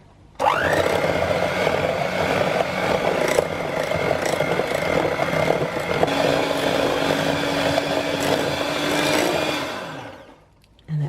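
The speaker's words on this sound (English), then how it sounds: "we'll whisk that until it's smooth" A small electric whisk or blender whirs steadily for about ten seconds while blending stevia and cacao powder into a chocolate ricotta mousse, then winds down to a stop.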